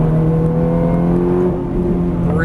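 A Ferrari 430 engine on a race track, a loud, steady close-up drone holding nearly level throughout, with a slight dip in pitch partway before climbing again under throttle.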